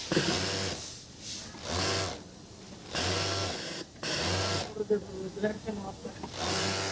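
A Pegasus five-thread overlock sewing machine runs in a garment workshop, its motor whirring in repeated short bursts separated by brief pauses, with a background hiss throughout.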